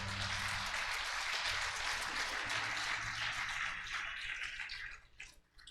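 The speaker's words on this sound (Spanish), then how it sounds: "Dele aplausos al Señor" A church congregation applauds during a sermon, with a dense, even wash of clapping that holds steady and then thins out and tapers near the end.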